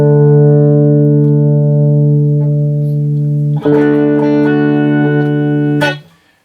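Sustained guitar-like chords through a 1995 Peavey Valverb tube reverb and tremolo processor into a small amplifier ring out with a lush, spacious reverb tail, a brief break midway, then the wash continues before fading out at the end.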